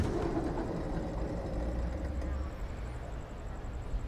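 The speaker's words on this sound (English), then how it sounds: "the name of this file is just Road Trip Vegas Ambience Night City" Night city ambience recorded in Las Vegas, a dense, steady low rumble of traffic and engines with a faint high tone running through it, continuous and even without distinct events.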